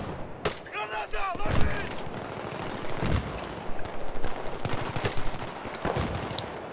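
Gunfire in the shooter game Battlefield 3 on the Karkand map, with sharp loud shots and bursts of automatic fire repeating through the clip, while voices talk over the action.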